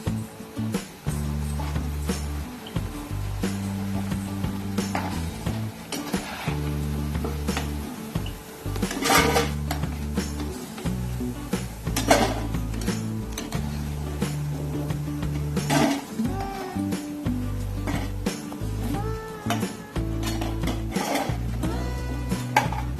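Fried raw-banana pakoda lifted from a pan and dropped onto a plate, with repeated clinks and scrapes of utensil against metal over a steady low background hum.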